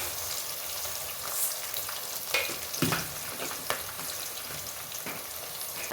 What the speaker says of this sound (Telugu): కొంచెం జీలకర్ర ఆవాలు వేసి వేసుకోవాలి జీలకర్రలో